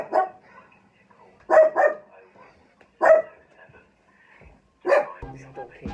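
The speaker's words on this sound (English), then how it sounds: "I tried to play through all of the dog barking" A pet dog barks repeatedly indoors in a home where piano is played, several sharp close barks in uneven bursts with quieter yips between and a low thump near the end.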